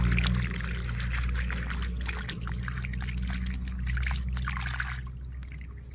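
Clear water poured steadily onto the soil around a durian tree, a continuous close splashing and trickling stream that fades toward the end, no talking.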